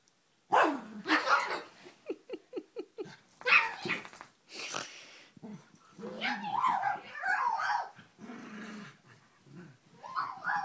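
Dogs playing together, with repeated barks, yips and a rhythmic run of short woofs, some growly play noises in between, fairly close and loud throughout.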